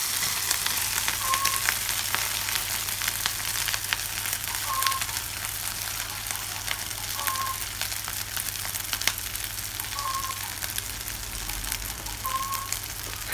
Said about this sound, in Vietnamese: còn dư lại ít thì em chiên luôn em ạ